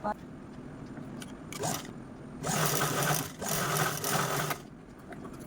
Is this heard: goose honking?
no